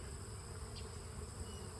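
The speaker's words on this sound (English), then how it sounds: "Oh yeah, lots of beautiful bees." A dense, steady drone of many honey bees buzzing close by around a hive in the morning, continuous and fairly faint, with no voices.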